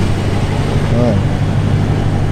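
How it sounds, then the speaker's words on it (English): A loud Dodge Challenger idles at a car meet, its low engine rumble steady and close beneath people talking. "Loud ass Challenger on deck."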